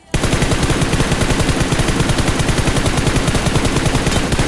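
Loud, continuous rapid-fire automatic gunfire in a shooting video game, a dense, even rattle of shots that starts abruptly and keeps going without pause.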